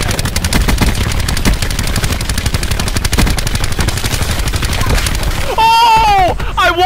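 Loud, rapid automatic gunfire in Black Ops 4 rattles in a fast, continuous burst up close, and an excited voice shouts over the shooting near the end.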